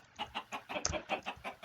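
A Minecraft chicken clucking in a quick series of short, close, repeated clucks with no talk over it.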